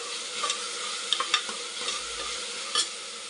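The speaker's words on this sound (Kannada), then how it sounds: "ಫ್ರೆಂಡ್ಸ್, ಎಲ್ಲ ಚೆನ್ನಾಗಿ ಫ್ರೈ ಆಗಿದೆ ಇದು" Tomato masala frying in a pan for a biryani, a steady hiss of sizzling oil punctuated by a few sharp clinks and scrapes of a spoon against the pan.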